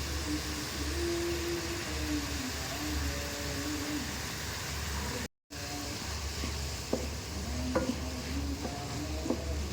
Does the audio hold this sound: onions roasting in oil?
yes